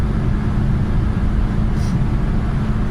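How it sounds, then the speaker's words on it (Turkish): Toyota Corolla 1.6 (132 hp) engine at full throttle while cruising near 180 km/h up a slight incline: a steady, loud broadband drone of engine and road noise, constant throughout with no talk. "Şu an dip gaz gidiyorum yani."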